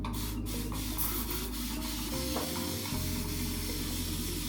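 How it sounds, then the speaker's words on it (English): A steady, continuous hiss of a spray bottle misting water onto curly hair, loud and close, with faint background hum and no talking. "Spray bottle and re-wet this to soaking wet."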